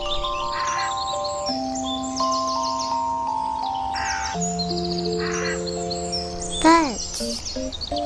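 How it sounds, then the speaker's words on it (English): Cartoon-style bird calls and cawing chirps over sustained musical tones in a children's nature program, with several short calls scattered throughout and a brighter swooping call near the end. "Birds."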